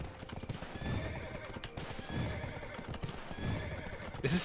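Galloping hooves clip-clop in a quick rhythm while a horse whinnies in the game Black Desert Online, with a synthetic, game-like quality and no talking.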